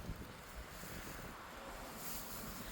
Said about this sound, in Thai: วันนี้มีลม